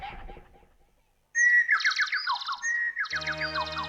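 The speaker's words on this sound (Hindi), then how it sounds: "अरे ये कहां से आवाज आ रही है चिड़ियों की?" After a brief murmur and a pause, birds break into loud, bright chirping and warbling phrases that repeat in quick succession, close by.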